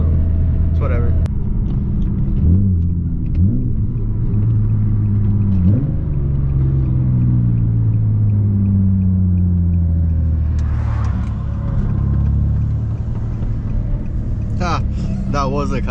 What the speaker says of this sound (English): That's just enjoy the sound of this car.